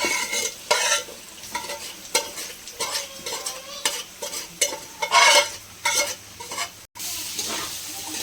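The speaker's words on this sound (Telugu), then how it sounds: "అది వేగేటప్పుడే మనం బాయిల్ చేసుకున్న మాంసం అనేది, బీఫ్ అనేది అందులో వేసేసుకోవాలండి." Beef and onions sizzle in a pan for a beef curry while a spoon stirs and scrapes them in a quick, uneven rhythm, close and clear with no talking.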